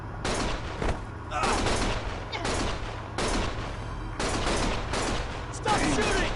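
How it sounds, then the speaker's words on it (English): Bursts of heavy automatic gunfire ring out in the video game Lost Judgment, coming in several separate loud volleys with short gaps between them. "Stop shooting!"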